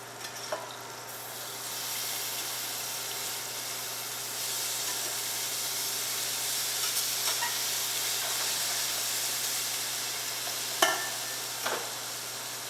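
Squash searing in a hot pan, a steady loud sizzle and hiss of frying with a few brief clatters near the end.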